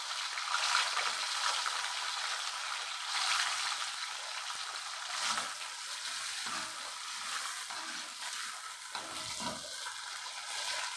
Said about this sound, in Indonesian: Saya mau tumis kacang ini kayak sambil goreng setengah kering gitu ya.